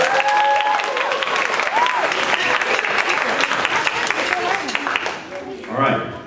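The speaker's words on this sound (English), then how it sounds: "So let's give them a big round of applause." Loud, sustained applause from a crowd after a reading of fourth graders' poems, with scattered voices and a few cheers, fading toward the end.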